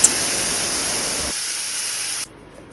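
Tomato paste hitting a hot pan of golden fried garlic gives a loud, steady sizzling hiss, close and continuous, that drops away abruptly partway through and then cuts to near silence.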